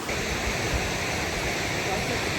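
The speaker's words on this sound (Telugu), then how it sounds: "కుంటాల జలపాతానికి వచ్చాము." A constant, dense rush of falling water pours without pause at Kuntala waterfall, a loud, even roar with no voices or breaks.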